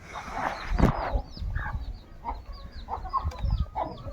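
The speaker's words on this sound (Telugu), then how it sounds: "కోళ్ళకి గింజలు అయితే తలేసాను కోళ్ళని గింజలు మేస్తున్నాయి" Backyard chickens cluck steadily in soft, overlapping, irregular calls while pecking at scattered grain nearby. A few brief bumps and scratching noises mix in, with no talking.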